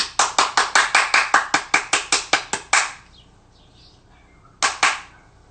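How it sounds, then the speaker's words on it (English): About fifteen sharp, close hand claps land in a quick steady rhythm, then stop, followed by near silence and two final claps. "I'm gonna clap and say thanks"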